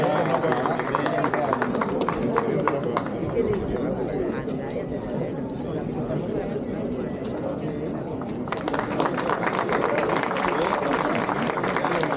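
Strong applause from an audience after a ballet performance at an outdoor civic event, dense clapping and crowd chatter filling the whole stretch, swelling louder near the end.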